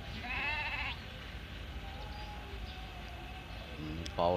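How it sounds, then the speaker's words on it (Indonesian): Goats at a farm bleat in a short, loud call up close, followed by a quieter stretch and another brief bleat near the end, with people talking nearby. "terutama kambing yang baru beli itu ya, Diego ya, perkembangannya bagaimana."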